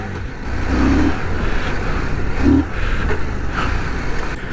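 A CF Moto 800MT Touring (Ibex) motorcycle revs hard on a rough dirt and gravel track, the engine note surging loudly twice and staying close throughout, with no talk.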